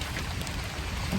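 Steady rain falling outdoors during outdoor work, a continuous soft hiss of drops with no break and no voices.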